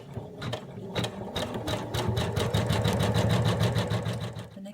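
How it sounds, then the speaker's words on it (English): A sewing machine satin stitching around a fabric star, a steady fast mechanical chatter of needle strokes close by, running continuously with no talking. "It will actually satin stitch all the way around the outside."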